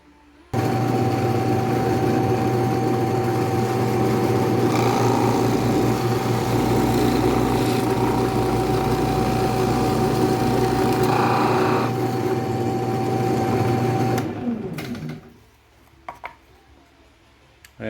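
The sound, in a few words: power drill drilling wood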